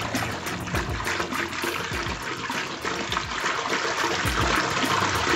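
Gypsum plaster being beaten into water by hand in a container, a steady wet churning and sloshing that runs continuously and fairly loud, with no talking.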